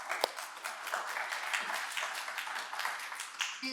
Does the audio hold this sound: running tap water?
no